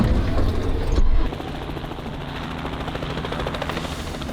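Helicopter flying during impala game capture and relocation, a steady rotor thrum with rapid chopping pulses, loud and close at first, then easing slightly as it continues without speech.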